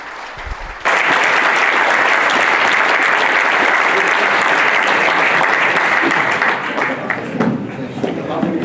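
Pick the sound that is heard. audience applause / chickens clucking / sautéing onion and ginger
audience applause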